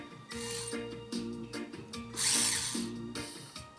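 A four-cylinder model race engine starts and runs, giving a close, steady mechanical whirr with rhythmic pulsing and a brief louder, rasping burst partway through.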